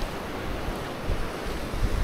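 Sea waves wash onto a beach at Larnaca, Cyprus, a continuous close rushing surf with heavy wind buffeting the microphone and no voices.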